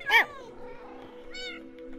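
A person imitates a cat with a drawn-out, high meow near the start, then a softer second meow, close and clear over a low steady hum, in a Minecraft setting.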